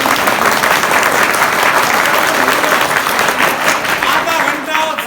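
Loud, dense clapping from an audience at a motivational laughter session, continuous and close, with a slight dip near the end.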